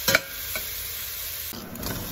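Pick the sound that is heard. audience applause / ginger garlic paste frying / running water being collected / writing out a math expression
ginger garlic paste frying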